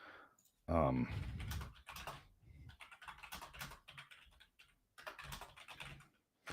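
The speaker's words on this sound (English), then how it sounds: "Here, I'll type that in here, Joe." Typing on a computer keyboard comes in bursts of quick, close clicks, with pauses between runs and occasional faint talk.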